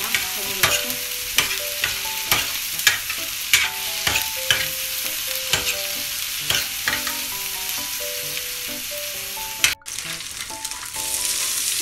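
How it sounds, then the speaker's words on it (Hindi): Liver frying on a hot tawa while green masala of coriander, mint and green chilli is stirred in, steady sizzling under repeated sharp metal scrapes and clinks of the spatula, close and continuous. "अब इसमें हम ये हरा मसाला डाल देंगे जो हमने बनाया"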